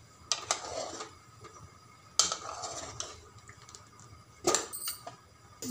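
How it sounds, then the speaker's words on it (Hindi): Butter heating in a pot while being stirred to make ghee: a spoon clinks and scrapes against the pot in three separate bursts over a faint, low simmering background. "देखिए हमारा मक्खन खोलना शुरू हो गया है, अब इसे चलाते रहेंगे।"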